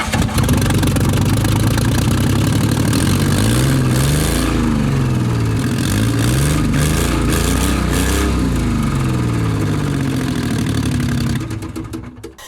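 A rough-running Ford Mustang V6 engine idles loudly up close, its uneven, lumpy rumble wavering and surging in pitch before fading slightly at the end.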